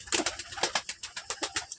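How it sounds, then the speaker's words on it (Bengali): A pigeon coos close by in a quick, regular series of about ten soft, throaty pulses, with nothing else heard. "এটা একটা রেগদার পায়রা।"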